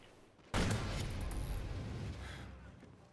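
Gunfire in a fast-paced gun game video game, with snipers among the weapons, erupts as a sudden loud blast and sustained rattling roar that slowly tails off.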